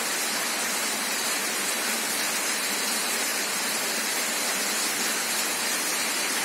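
Heavy rain pours on a highway on New Year's Eve, a dense, constant roar of falling water that stays loud and unbroken throughout, with no voices.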